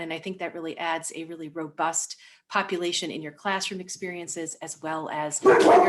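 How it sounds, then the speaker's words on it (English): A dog barks briefly right at the end, sharp and close, over a person speaking steadily throughout. "And that is my dog"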